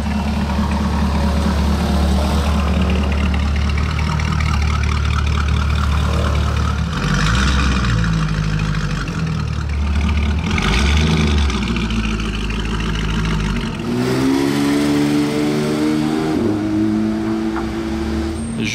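Lamborghini Urus with a loud aftermarket exhaust, heard close with a deep, rumbling idle rising into repeated revs and a throaty burble, continuous and loud throughout.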